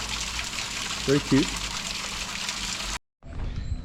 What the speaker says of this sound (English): So this is the first trial run of the waterfall.